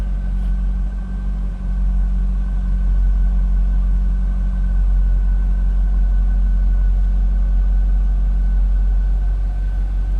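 A 2001 Chevrolet Corvette C5 coupe idles smoothly and steadily for the whole stretch, a close, even low rumble with no clicks or other noises and no talking.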